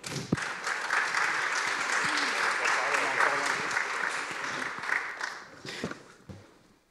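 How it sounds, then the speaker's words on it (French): An audience at a conference debate claps for about seven seconds, the sound swelling early and then thinning out to a few scattered claps at the end. "Je vous invite donc à les applaudir avant de commencer ce débat."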